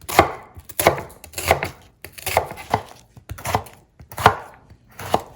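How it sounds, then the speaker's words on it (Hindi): Knife roughly chopping onion on a board, a steady series of about a dozen sharp close chops in an uneven rhythm. "आपने प्याज को रफली चॉप कर लेना है"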